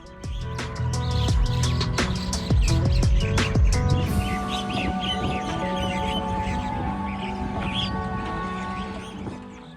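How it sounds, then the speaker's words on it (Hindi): Birds chirping and calling at the Yamuna riverfront in Delhi near a ber tree, a dense busy chorus of tweets from several birds, close and fairly loud throughout with no talk. "यहाँ से पक्षियों की अब आवाज़ सुने कितनी ज़्यादा आपको यहाँ पर सुनाई दे रही है।"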